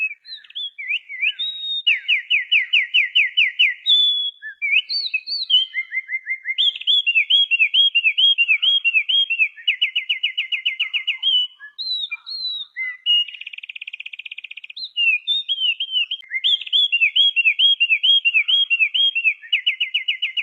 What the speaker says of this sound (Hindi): हमारे गांव में सुबह की शुरुआत पक्षियों की खूबसूरत चहचहाहट से शुरू होती है।